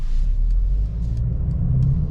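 A 2023 Mercedes-AMG GLB 35 on 21-inch rims is driven on the road, giving a loud, close, low engine rumble with road noise that shifts slightly as it pulls. No one speaks.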